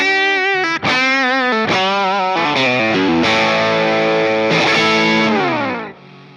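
A loud, distorted electric guitar through a Fender Tone Master Pro modeling a blonde '65 Deluxe Reverb plays a sustained chord passage with a chorus-like shimmer, ringing for several seconds before cutting off.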